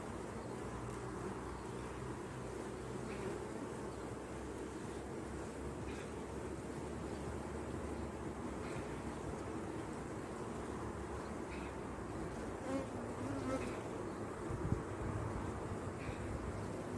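Honey bees buzz around a swarm at an apiary, forming a faint, continuous hum with soft outdoor background noise and no clear breaks.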